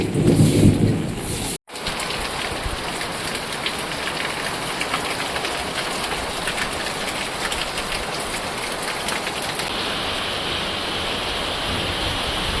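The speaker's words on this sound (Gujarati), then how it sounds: "આવો વરસાદ ભાઈ તમે ચોમાસામાં નહીં જોયો" Heavy night rain pours steadily in Gir Somnath in midsummer, a dense, continuous roar with a brief dropout near the start and no voices.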